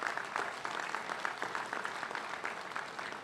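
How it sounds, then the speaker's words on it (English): Graduation audience applauding the spouses of faculty members, a steady, fairly distant wash of many hands clapping, held at an even level throughout and alone without speech. "Let's give all the spouses a round of applause."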